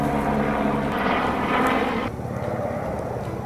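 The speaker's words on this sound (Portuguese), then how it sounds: "E o avião está passando de novo." An airplane passes overhead, a loud broad engine roar that fills the clip and eases slightly partway through, with no talking.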